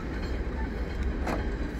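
A train rumbles past close by on a snowy day in Denmark, a steady dense roar with a faint wheel squeal, no voices.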